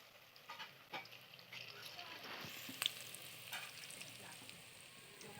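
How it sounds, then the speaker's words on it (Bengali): Bottle gourd leaf pakoras fry in oil heated on high, giving a quiet, steady sizzle with light bubbling and occasional soft spoon scrapes nearby. "এই পকোড়াটা ভাজার সময় তেলটা হাই হিটে গরম করে নিতে হবে"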